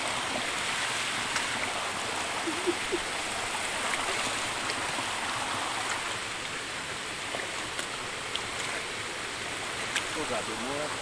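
Clear, cold stream water flowing along a hiking trail to Dumalabdab Falls in Patag, a steady close rushing wash with light splashes, faint talk in the background.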